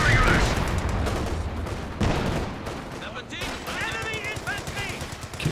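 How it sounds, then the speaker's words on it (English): Dense enemy infantry gunfire in the Company of Heroes 2 strategy game, a continuous rattle of rifle and machine gun shots mixed with game noise throughout. "Enemy infantry firing on us."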